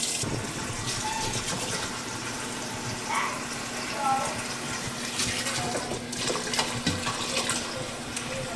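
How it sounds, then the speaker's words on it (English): Tap water pours into a soup pot being filled about halfway, a steady rushing splash over the whole stretch with faint background voices. "first I start off with filling my pot probably about halfway full of water."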